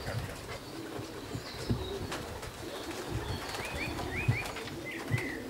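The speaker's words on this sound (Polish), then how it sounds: "I ciągle przybywa po jednym gołębiu." Racing pigeons come back to a loft in the Żary area near the Polish–German border, with soft cooing, scattered wing flaps and a few distant whistling calls over a steady outdoor background, and no talking.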